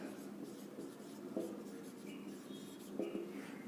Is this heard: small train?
no